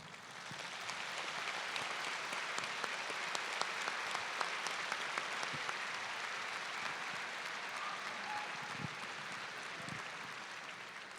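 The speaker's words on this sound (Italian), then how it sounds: "non risparmiate gli applausi," A stadium crowd applauds graduates at an outdoor graduation ceremony, steady broad clapping holding evenly across the whole stretch with a few sharper individual claps standing out.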